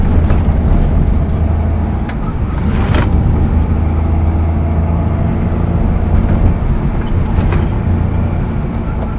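Maruti 800 small car driven fast: a loud, steady engine drone with road and wind roar filling the interior, a couple of brief rattles, no talk.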